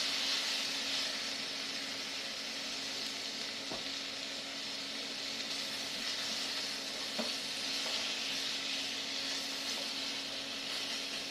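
Vegetables for pad thai sizzling steadily in a pan as they are broken up, a continuous hissing fry with a few faint scrapes of a utensil, no talking.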